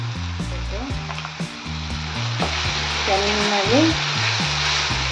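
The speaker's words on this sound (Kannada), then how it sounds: "ಒಂದು 5 ನಿಮಿಷ ಚೆನ್ನಾಗಿ ಫ್ರೈ ಮಾಡ್ಕೋಬೇಕು" Prawns Manchurian fry in tomato sauce with a steady, close sizzle beneath louder background music, while a voice speaks briefly.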